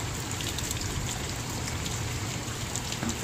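Steady rain patters down on a 4000-gallon salt pond, a dense continuous hiss of drops with faint trickling, fairly close and uninterrupted.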